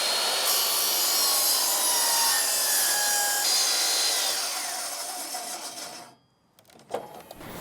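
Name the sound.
miter saw cutting a 10-inch common board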